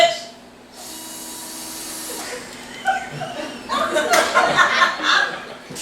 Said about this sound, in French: On visse.